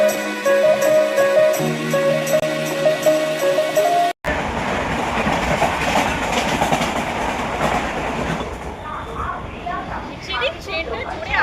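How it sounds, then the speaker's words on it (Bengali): A metro train rushing fast into a station, with a melodic platform chime or announcement tones first, then a sudden loud roar of the train and rattling wheels that continues steadily, with people talking nearby. "ট্রেনটা জোরে আসে, বাট এটা এত জোরে এসেছে আমি এরকম করে সরে গেছি"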